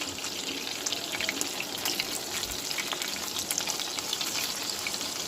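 Beef kebabs and chops fry together in a pan of oil, giving a close, steady, bubbling sizzle dotted with sharp pops and crackles, continuous for several seconds without talk.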